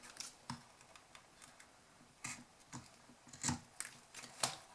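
Scissors snip through ribbon in a series of close, quiet, crisp cuts, spaced irregularly with short pauses, while ribbon is trimmed for a small handmade gift box.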